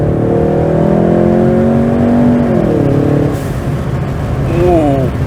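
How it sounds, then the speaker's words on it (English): Ford Mustang EcoBoost floored at full throttle in second gear, its engine note climbing steadily, briefly dipping at a shift, then rising again, heard from inside the car with people talking over it. "Go to second gear right now, and then floor it here."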